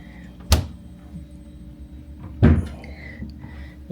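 A drawer in a hotel room opened and shut, making two distinct wooden thunks about two seconds apart, close by, with quiet room tone between.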